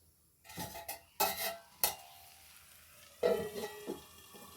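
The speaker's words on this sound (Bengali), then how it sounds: "আবারও ভালো করে একটু নেড়ে নেব। দিয়ে এবারে একটা ঢাকনা দিয়ে ঢেকে দেব।" Stirring a pot of mung dal with potato and papaya, several scraping, clattering strokes of a utensil against the metal pot, then a lid clanks down to cover it, close and fairly loud with gentle sizzling.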